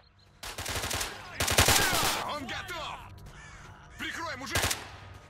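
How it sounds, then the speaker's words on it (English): Shotgun blasts in the game Stalker: Shadow of Chernobyl, with loud bursts coming in short clusters. Voices and chatter between the shots fill the gaps. "We'll switch back to the shotgun for now."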